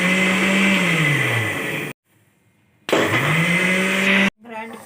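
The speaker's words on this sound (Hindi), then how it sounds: "कॉफ़ी मिक्स करके रखे थे, अब इसको ग्राइंड" Mixer grinder blending milk, sugar and a coffee mix for cold coffee, a loud close motor whine that spins up and runs steadily, cuts out briefly, then runs again before stopping.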